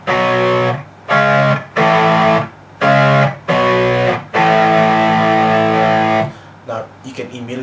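Electric guitar strumming the plain introduction chords of a song, sustained, evenly spaced blocks, loud and close, with brief gaps between them.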